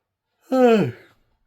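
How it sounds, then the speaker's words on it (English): A single yawn, one breathy voiced exhale with a falling pitch lasting under a second, close and alone. "here comes the yawns as soon as I start this video"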